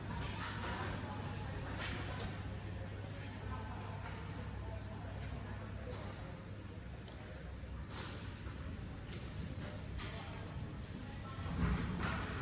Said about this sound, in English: crickets audio. Where did I put that?